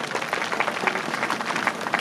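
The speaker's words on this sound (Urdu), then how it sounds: "آپ بھرپور تالیاں بجا دیں." Audience applause at a school's 60th anniversary event, a dense burst of many hands clapping close and loud for the whole moment.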